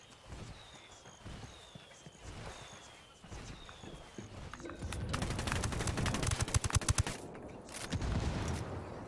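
Mortar fire in the shooter game Ghost Recon Wildlands during a co-op mission: quiet ambience at first, then a loud cluster of rapid, heavy reports for several seconds.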